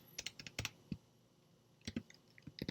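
Computer keyboard keys are pressed in scattered clusters of quiet, close clicks, with short pauses between bursts of typing.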